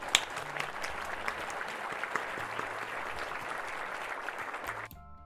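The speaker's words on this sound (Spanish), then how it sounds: "Si les gustó, aplaudan." A webinar audience breaks into dense, sustained applause, many hands clapping evenly for about five seconds before it cuts off abruptly.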